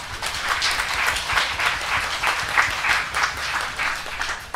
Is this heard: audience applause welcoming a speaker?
yes